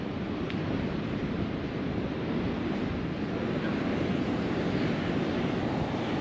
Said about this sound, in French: Bon il y a toujours des belles vagues.